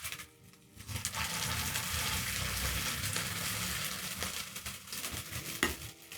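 Spoonfuls of cauliflower fritter batter drop into a hot oiled pan and burst into a loud, steady sizzle with some spoon stirring and clinks, starting after a brief quieter moment, no talking.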